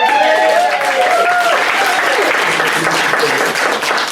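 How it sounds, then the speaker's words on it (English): A live comedy audience at London's Soho Theatre breaks into steady, close applause that fills the room from start to finish. "Round of applause for the man."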